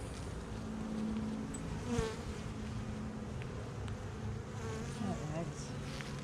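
Honey bees hum in a dense, steady drone at a sparsely populated, opened hive box, with individual bees buzzing past close to the microphone now and then.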